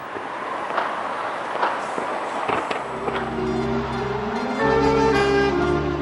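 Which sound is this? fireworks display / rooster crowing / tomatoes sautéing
fireworks display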